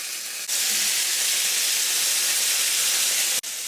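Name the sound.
chicken thighs frying skin-side in a pan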